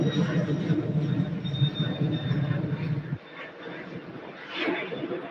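A UPS jet rumbles at Louisville airport, a broad, distant engine roar that drops away abruptly partway through, leaving a fainter whine with light background chatter.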